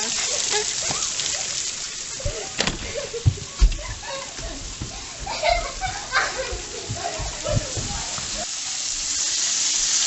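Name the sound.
pork chops sizzling while frying in a pan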